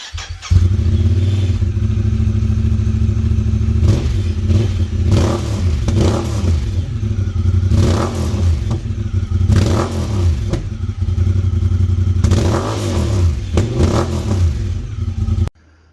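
A Honda Talon side-by-side fitted with a Trinity Stage 5 exhaust starts up, then idles loudly with a deep rumble that is broken by repeated sharp revs, all close and continuous for about fifteen seconds.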